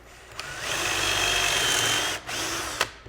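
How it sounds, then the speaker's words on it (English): A power drill bores into a wooden workpiece held in a drilling jig, one steady whining run of about two seconds that drops briefly and then resumes, close and loud. "Drill."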